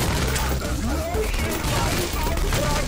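Repeated semi-automatic shotgun blasts in the top-down shooter Bloodbath Kavkaz, steady and loud over a busy game soundtrack, with someone talking over the action.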